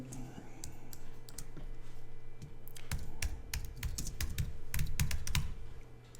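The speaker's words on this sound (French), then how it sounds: "Et je vais taper le nom du magazine." Typing on a computer keyboard while entering a magazine name in page layout software, a rapid run of crisp close key clicks that grows busier and louder in the second half, with no talk.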